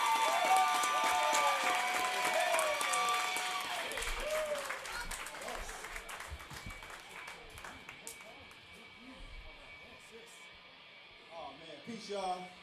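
Audience applause and cheers welcoming a speaker at a live music event, loud at first and then fading over several seconds, with scattered claps and crowd voices underneath and a brief swell near the end.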